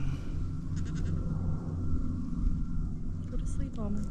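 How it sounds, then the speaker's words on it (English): Goats bleat in short bursts while grazing on a small farm, their calls rising above a steady low rumble, with people talking nearby. "The goats are getting to eat a little bit of it."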